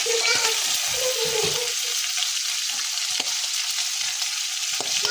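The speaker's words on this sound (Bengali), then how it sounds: "চিংড়ি ভাজা শেষ। এখন আমি নামিয়ে নিব চিংড়িগুলো।" Shrimp frying in hot oil, a steady close sizzle with stirring clinks early on, continuing throughout.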